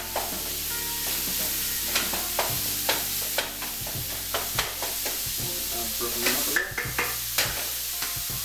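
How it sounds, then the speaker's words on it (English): Ground beef and onion searing in a pan over medium-high heat, a steady sizzle broken by repeated scraping and knocking as a utensil stirs the meat, close with no talk. "And scorch the beef."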